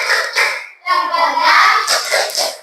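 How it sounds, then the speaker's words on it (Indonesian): Children doing the 'tepuk semangat' clapping chant in a classroom, a quick run of rhythmic hand claps mixed with young voices chanting along, close and lively, with a short pause before a second burst. "Tepuk semangat."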